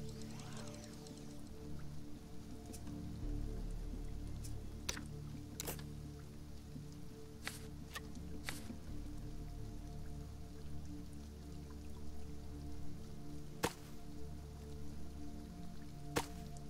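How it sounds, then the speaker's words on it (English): Rain falling on a surface in the video game Sheltered, a soft steady patter under a low hum, broken by a few sharp isolated drip-like ticks. "Rain on surface."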